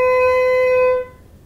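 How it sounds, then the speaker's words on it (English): A single sustained flute note, steady and clear with rich overtones, held for about a second before cutting off into quiet. "this is the sound of the flute"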